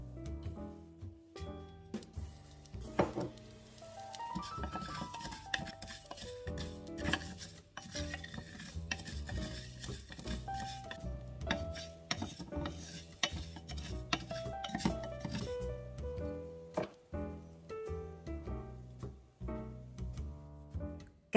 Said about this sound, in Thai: when cloves and cardamom are half roasted then I add coriander to roast together